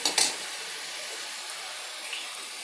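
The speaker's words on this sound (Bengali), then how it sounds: "পেঁয়াজ আর টমেটোটা একটু লাল লাল করে ভাজা করে নিচ্ছি" Onion and tomato frying in a pan, a continuous soft hiss and sizzle with a couple of brief clatters at the start, no talking.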